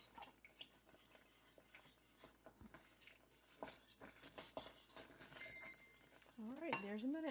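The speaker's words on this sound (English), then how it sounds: "we're going to stir this until that timer goes off" Metal spoon clinks and scrapes against a pot of caramel in a steady stirring rhythm, with a voice speaking briefly near the end.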